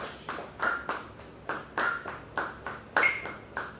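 Hands clap a syncopated rhythm in a drum class, about ten crisp claps in uneven groups with short gaps, bright and close with no voices over them.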